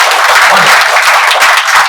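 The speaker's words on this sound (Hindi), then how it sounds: "सबके लिए एक बार जोरदार तालियां।" Loud, dense audience applause at a business development seminar, a burst of many hands clapping close and continuous for about two seconds.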